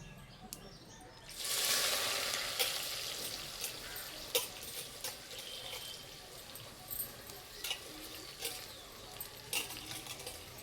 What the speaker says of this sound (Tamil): கடுகு பொரிஞ்சிச்சு